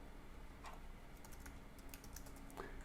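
Light clicks of keys tapped on a Mac computer keyboard come in short bursts, quiet and close, against a faint steady hum.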